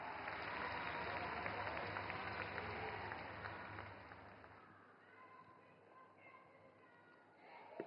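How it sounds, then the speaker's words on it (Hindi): Strong audience applause welcoming the chief minister at a public government event in Panipat, dense clapping that fades gradually over several seconds as it dies down. "जोरदार तालियों से स्वागत करें माननीय मुख्यमंत्री जी का"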